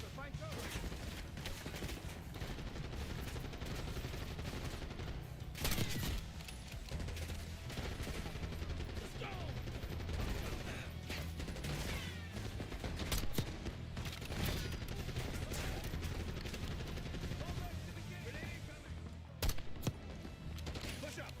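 Gunfire in a video game: dense bursts of shots and rattling automatic fire fill the whole stretch at a moderate level, with scattered louder cracks and voices talking over the battle.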